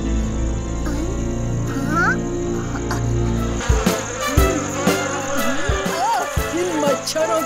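Cartoon mosquitoes buzz in a steady whine over a busy animated soundtrack with music and effects, loud and continuous throughout.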